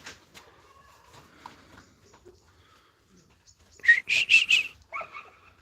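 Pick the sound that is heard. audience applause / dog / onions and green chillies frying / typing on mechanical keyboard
dog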